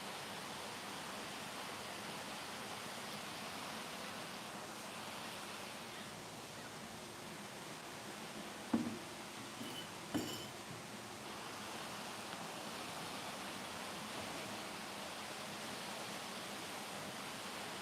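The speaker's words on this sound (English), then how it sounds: "Allow yourself to focus on the waterfalls, the sounds around you" Steady, broadband rushing of falling water fills the whole stretch, a constant wash with a couple of brief faint knocks partway through.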